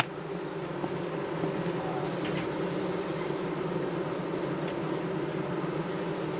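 A honeybee colony that swarmed in April hums steadily at the hive, a dense continuous buzz of many bees close by with no talk.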